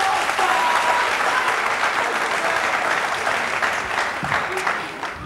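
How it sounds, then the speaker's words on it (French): Loud, sustained applause from a studio audience at a French-language television show, holding steady for several seconds before tapering off slightly at the end. "Applaudissez pour Héritier."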